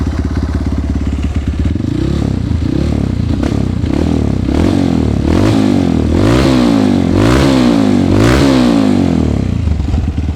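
Honda CRF150L supermoto with a bore-up engine and stock exhaust revs repeatedly, its loud close engine note rising and falling in steady waves with some mechanical clatter, no talking.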